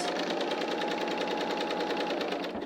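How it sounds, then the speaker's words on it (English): A BERNINA L 890 overlocker runs a 4-thread overlock seam on knit fabric, a fast, even rhythmic whirring and clatter held steady and close, stopping just at the end. "our machine is set up for a 4-thread overlock"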